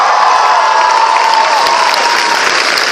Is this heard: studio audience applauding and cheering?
yes